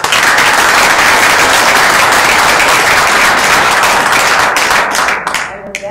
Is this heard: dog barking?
no